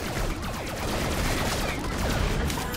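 Dense, continuous gunfire from a Torque shotgun in Borderlands The Pre-Sequel, with loud overlapping blasts and impacts that stay steady and close throughout, no voices.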